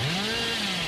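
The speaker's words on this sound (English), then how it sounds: "when I'm using this chainsaw" Chainsaw whining at high revs in the Dead by Daylight video game, a brief, loud, continuous buzzing engine drone with no voices.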